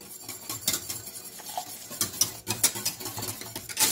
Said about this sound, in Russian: И загущаю соус кукурузным крахмалом, разведенным в холодной воде.